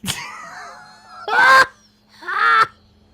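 Two loud, harsh honking calls in quick succession, close and alone, after a brief onset burst; the calls sound more like goose honks than a typical duck quack.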